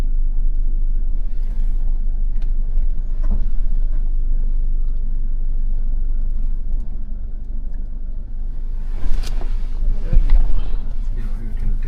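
Toyota Hilux pickup driving off-road, with a steady low engine rumble throughout and a brief louder surge near the end. Voices can be heard faintly in the cabin.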